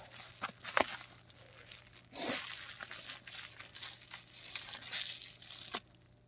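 Crinkling and tearing of plastic packaging as a package of custom figurine bases is opened, with a sharp crack near the start and steady rustling through the middle, close up and alone.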